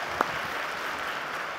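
Steady applause from an audience at a Microsoft technology summit, a brief, even wash of clapping with one sharper clap near the start and no voices over it.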